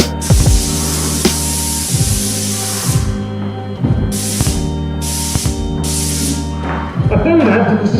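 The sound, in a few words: spray gun spraying paint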